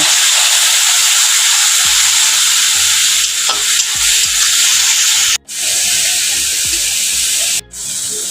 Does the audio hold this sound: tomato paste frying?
yes